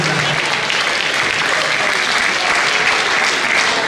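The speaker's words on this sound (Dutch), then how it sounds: "Nog een geweldig applaus voor die twee voor de dankstelling" Loud, steady applause from a live audience at a Limburg carnival event, a dense wash of clapping sustained through the whole stretch with no pauses.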